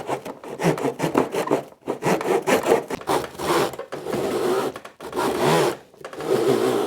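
Hand saw slowly cutting wood for hidden dovetails makes rasping back-and-forth strokes, close and steady, each stroke separated by brief pauses.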